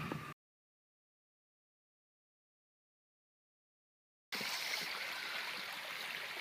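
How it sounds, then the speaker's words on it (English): Monument Creek, a small creek, flows with a soft, steady rushing murmur, heard only in a brief snippet at the start and again for the last two seconds after a stretch of silence. "Monument is a little creek that flows in here."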